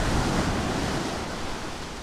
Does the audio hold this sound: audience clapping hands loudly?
no